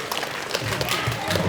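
An audience applauds at a ceremony handing over a sponsored house, with dense, steady clapping that holds at an even level through the whole short stretch.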